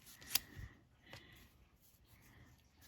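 Scissors trim a strip of card for mini rosettes with a couple of crisp, close snips, then faint rustling in a quiet room.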